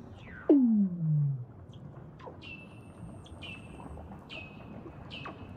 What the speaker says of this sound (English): They're actually the calls of Weddell seals.